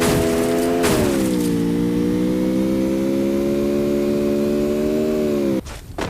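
A vehicle engine in a video game hums steadily and loudly, its pitch dipping slightly early on as it pulls away, then holding an even drone before cutting off abruptly near the end.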